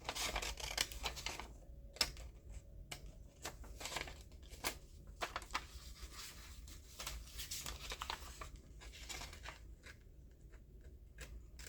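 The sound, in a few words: cutting paper with scissors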